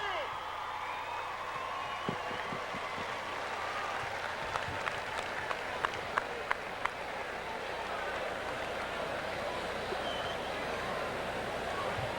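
Crowd applause and cheering in the stands at a 2007 OVAC all-star football game, a steady broadband roar with scattered whistles and shouts rising above it, sustained throughout, with voices mixed in.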